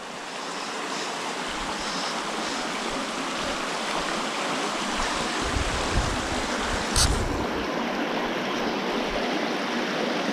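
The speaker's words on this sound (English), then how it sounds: "see the water coming out of the cave here" Water pouring steadily out of a cave near Bluff City, Tennessee, a loud continuous rushing wash like a stream, close and unbroken for the whole stretch, with no voices.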